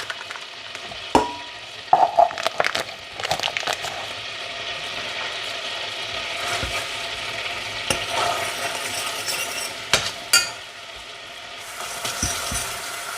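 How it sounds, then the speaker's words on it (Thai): Green curry chili paste simmering and frying in a pan, loud sizzling broken by scraping stirs from a spatula, with a few knocks and clatters of metal against the pan. "มาเคี่ยวเนาะทุกคนเคี่ยวให้พริกหอมๆ"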